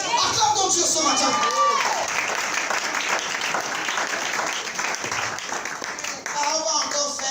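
A church congregation applauding and cheering loudly at a pastor's service, dense sustained clapping from a large crowd with voices calling out, briefly trailing off near the end before rising again.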